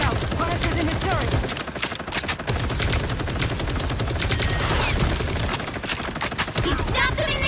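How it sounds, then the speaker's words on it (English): Punisher's turret machine gun in the Marvel Rivals video game fires in rapid continuous bursts, loud and close, with brief gaps between volleys and game effects layered over the gunfire. "Look out! Punish is in his turret!"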